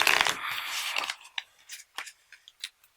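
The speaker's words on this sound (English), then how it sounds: "So give this a little bit of a shuffle here." A deck of Book of Dragons game cards being shuffled: a dense burst of riffling card noise close by, then a few scattered taps and flicks as the cards settle, with no talking.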